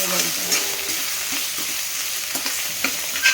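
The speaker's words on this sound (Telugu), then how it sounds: "వేసుకొని బాగా ఫ్రై చేసుకోవాలి దాన్ని" Cashews and grated ginger frying in a pan for poha upma, a loud, continuous sizzle with brisk stirring scrapes and small clicks of a spoon throughout.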